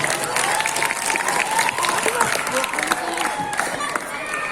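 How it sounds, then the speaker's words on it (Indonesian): Audience at a school language-month talk show applauds in a steady, sustained burst of many hands clapping, with voices and cheering mixed in. "Boleh dong kasih tepuk tangan dong buat teman-temannya dong."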